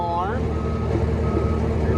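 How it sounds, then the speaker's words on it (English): A Bobcat T590 skid steer's travel alarm beeps in a steady, continuous tone close by, over a low engine rumble, with a brief rising tone at the very start. "you hear the travel alarm."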